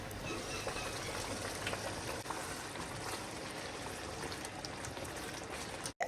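Palm oil stew with assorted meat and locust beans simmers in a covered pot over low to medium heat, giving a soft, continuous bubbling hiss with no talk.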